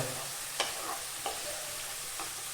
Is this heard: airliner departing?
no